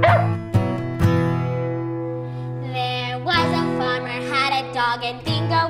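A dog barks several times in short bursts over a children's nursery song about a farmer's dog, the sung melody and backing music continuing around the barks.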